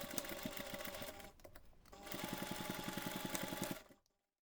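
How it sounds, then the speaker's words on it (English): A sewing machine stitches close to the edge of a handmade reindeer Christmas pouch in two rapid, evenly pulsing runs separated by a brief pause, stopping abruptly near the end. "take this to the machine and stitch close to that edge"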